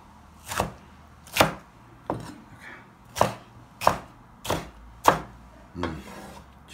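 Green and red peppers are chopped into sections on a wooden board, about eight sharp, evenly spaced knife thuds, close and clear, with no talking.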